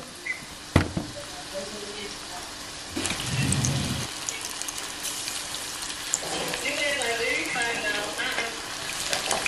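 Fish shallow frying in a pan for fish tacos, a soft continuous sizzle and crackle with a louder bubbling burst partway through, while a person talks nearby.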